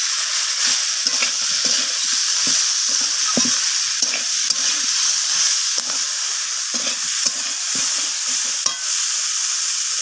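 Masoor dal mixture with salt being sautéed in a pan, a steady close sizzle broken by repeated scraping stirs of a spatula, with no talking.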